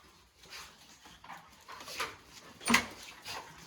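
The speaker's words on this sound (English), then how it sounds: "I'm gonna let this Rottweiler loose with them." A Rottweiler puppy pants softly and lets out a few faint whimpers close by, with one sharper, louder yelp near the end.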